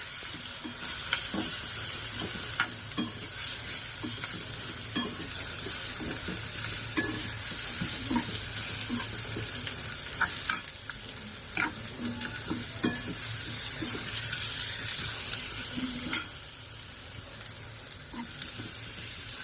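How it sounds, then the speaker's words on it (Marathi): Powdered spices — coriander-cumin powder, asafoetida, Kashmiri masala and turmeric — stirred and sautéed in hot oil for a dried Bombay duck curry, giving a steady close sizzle broken by repeated scraping stir strokes throughout, with no talking. "थोडं धने जिरा पावडर, हिंग, लाल होण्यासाठी कश्मीरी मसाला, थोडी हळद. चांगलं परतवून घेऊया."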